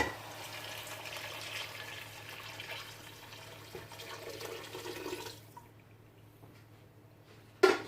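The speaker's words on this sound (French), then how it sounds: "je vais couvrir ma viande d'eau chaude" Hot water pours over veal in a cooking pot for a kabsa with spices, a steady splashing, trickling wash for about five seconds that then stops, leaving a faint quiet and a sharp clack at the end.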